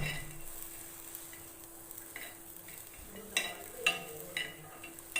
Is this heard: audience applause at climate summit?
no